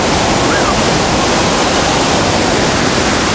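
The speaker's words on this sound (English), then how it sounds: "The slide here, the water coming off the slide." Loud, steady rushing water roars without a break, a dense close-up torrent pouring down a rock slide on the Blue Ridge Parkway after heavy rain, with no voices.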